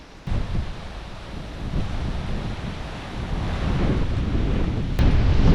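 Steady wind buffets the microphone on an open hilltop with a low, rumbling roar that builds slightly over several seconds, continuous and close, with no voices.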